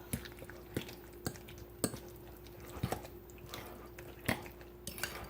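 Pancake batter with bacon pieces is mixed in a bowl: soft, quiet wet squishes and scattered light knocks of a utensil against the bowl in an irregular rhythm, close up, with no talk.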